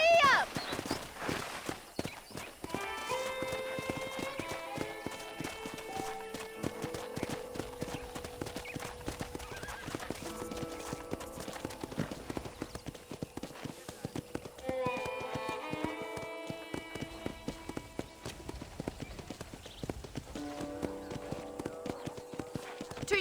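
A horse's hooves clip-clop steadily while a rider travels at a walking pace in the Western game Red Dead Redemption. The rhythmic, close hoofbeats run under ongoing talk and a light musical background.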